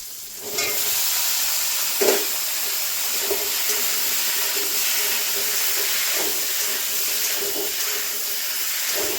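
Vegetables go into a hot pan of fried prawns and spices in oil, giving a loud steady sizzle and hiss that holds for several seconds, with a few faint clinks along the way.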